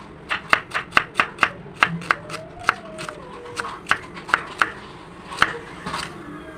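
An onion is sliced with a knife on a cutting board, a quick run of about fifteen crisp, evenly paced chops close by, with faint talk underneath.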